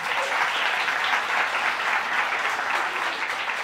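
Sustained applause from a crowd rolls on steadily at an even, fairly loud level for several seconds, with no talking over it.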